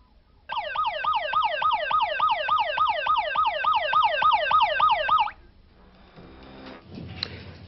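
A traditional alarm siren wails in rapid, regular electronic sweeps, about four per second, loud and unbroken for nearly five seconds before cutting off abruptly, leaving faint background noise.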